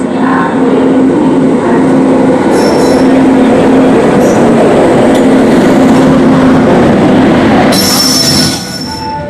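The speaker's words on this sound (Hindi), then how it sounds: "हमारी ट्रेन अपने निर्धारित समय से 7 मिनट की देरी के साथ फुलेरा जंक्शन के प्लेटफॉर्म नंबर 5 पर आ चुकी है" A passenger train hauled by a WAP5 electric locomotive pulls into a platform at Phulera Junction, its wheels squealing loudly and continuously over a heavy rumble of rolling cars, close by, with a sharper screech near the end.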